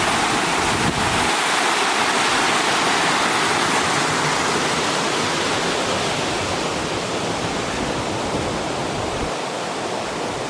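Water rushing through an old mill gate, a loud, steady roar of churning flow close by with no break over the whole stretch.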